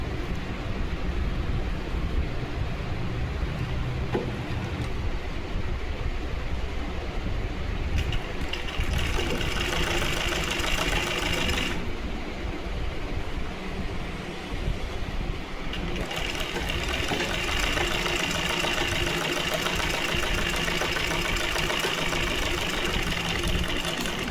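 Sewing machine stitching the neckline of a lined blouse, a steady rapid whirring run that cuts out briefly and starts again, with no talk.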